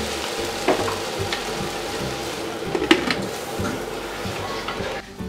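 Soya chunks masala cooking under a lid in a pan, a steady close sizzle and bubbling hiss with a few faint clinks of the pot, no talk.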